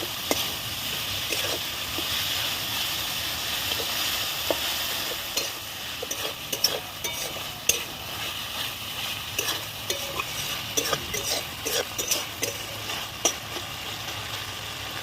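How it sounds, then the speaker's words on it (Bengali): Meat sautés with ground ginger, garlic and cumin in a pan: a continuous close sizzle, punctuated by repeated scraping and clacking of a spoon stirring against the pan, with no voices. "এবার আমি সব মশলা দিয়ে ভালোভাবে কষে নিব মাংসটা"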